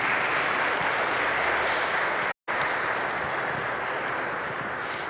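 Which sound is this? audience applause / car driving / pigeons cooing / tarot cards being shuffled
audience applause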